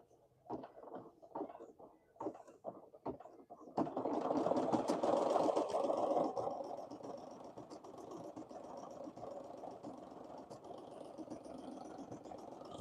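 Embroidery machine stitching an anime design, a close, steady rapid mechanical whir and clatter that starts after a few seconds of scattered knocks, with faint talk now and then.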